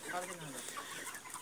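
Hens clucking inside a large poultry farm holding about 3,500 birds, a faint steady murmur of many birds with occasional louder clucks, distant and low in level with some speech-like sounds mixed in.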